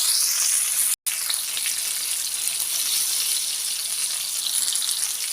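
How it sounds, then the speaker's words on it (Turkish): Eggplants and potatoes frying in oil in a pan, a dense, steady hissing sizzle close up, continuous apart from a momentary cut near the start. "Şimdi onları da güzel kızaracak."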